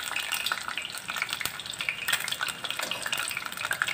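Egg frying in oil in a pan for a breakfast dish cooked inside bitter gourd, a soft continuous sizzle with light crackles and occasional utensil scrapes, close and fairly quiet.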